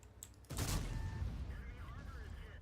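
A 60TP tank's gun fires in World of Tanks: a single heavy blast that bursts in abruptly after a quiet start, followed by a lingering rumbling decay with faint tonal game effects.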